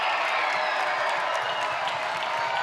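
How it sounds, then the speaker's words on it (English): A crowd at a college volleyball match between Duke and North Carolina applauds and cheers, a steady, dense wash of clapping and voices filling the whole moment. "Crowd making noise."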